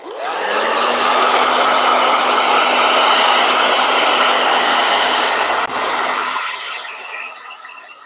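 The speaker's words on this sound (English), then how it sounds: "Blow dryer." A hair dryer blows steadily on a Crayola watercolor painting of Ernie and Bert, a loud continuous whooshing hum with a faint whine. It runs about six seconds, then the airflow dies down and fades out.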